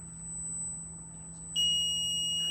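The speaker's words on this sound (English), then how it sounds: "once it hits that sensor, a beep will go up and this light will turn from green to orange." Electronic beeps from a floor sensor on an elevator model built as an electrical construction project: a steady high tone, then a louder multi-tone beep starting partway through and holding to the end, over a low hum.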